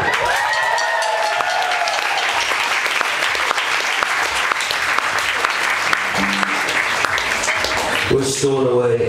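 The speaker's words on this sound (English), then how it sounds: "can we give them a clap," Sustained clapping from a concert audience at TT the Bears in Boston, thanking a touring support band before the headliner plays; the applause is loud and dense throughout, with a few voices rising near the end.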